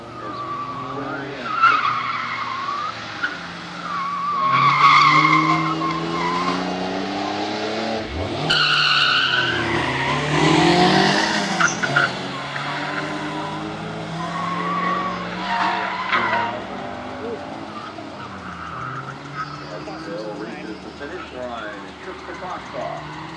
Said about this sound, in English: there again in the BMW making his third run, trying to see if he can put together a fast